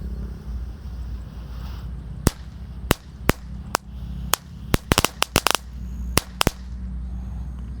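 A tank-shaped firecracker with missing wheels sets off a string of sharp bangs, about a dozen irregular loud cracks with a quick cluster in the middle, over low outdoor rumble.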